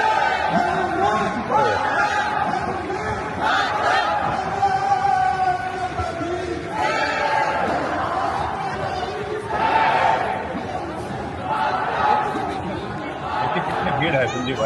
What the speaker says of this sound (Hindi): भीड़ है संजीव भाई